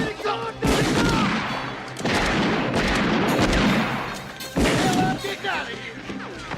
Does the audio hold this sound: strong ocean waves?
no